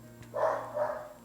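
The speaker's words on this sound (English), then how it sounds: "Please excuse the dog." A dog gives two quick muffled barks close by, one right after the other, over a low steady hum.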